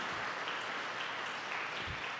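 Steady church congregation applause, a dense wash of clapping that holds evenly throughout with no voices on top.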